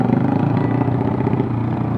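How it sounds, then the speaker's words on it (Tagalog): Motorcycle engines, including a Honda ADV 150 scooter, droning steadily on the road nearby, a continuous mid-pitched rumble without distinct revs. "Ang naririnig ko ay yung mga motor sa paligid ko."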